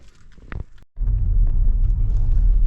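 A car setting off after blueberry picking in Sweden, a brief clunk and a short pause followed by a loud, steady low engine rumble as the vehicle gets under way, heard from inside.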